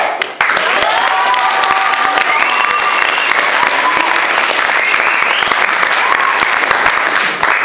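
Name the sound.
audience applause for a stage hypnotist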